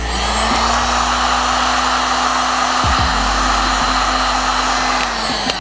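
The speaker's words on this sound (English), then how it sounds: "heat gun, heat it up." A heat gun blasts hot air onto plastic tail light housing for a 300ZX. It gives a loud, constant close-up roar with a steady high whine, and there is a brief shift in the hum partway through.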